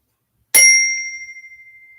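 A single bell strike rung for a mindful breathing moment at a church school All Saints Day gathering, with a sharp onset followed by a clear, sustained ringing tone that slowly fades over more than a second.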